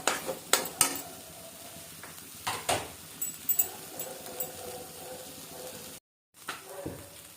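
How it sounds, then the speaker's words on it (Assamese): A spoon stirs Assamese-style boot dal in a pan over the gas, giving irregular scraping knocks with a faint sizzle between them and one short gap of silence. "খালি কণ্টিনিউ এনেকৈ লৰাই থাকিব লাগিব"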